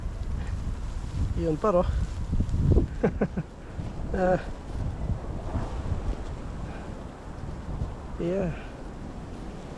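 Strong wind blows during a snowy Canadian day, gusting and buffeting the microphone in uneven surges, while people talk and exchange short remarks over it.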